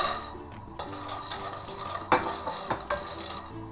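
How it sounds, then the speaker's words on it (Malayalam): Peanuts tipped into a hot pan and stirred with a utensil for a homemade peanut bar, with rattling, scraping and metallic clinks that rise and fall in quick uneven strokes, close and fairly loud. "കടല ഇട്ട് കൊടുക്കാം."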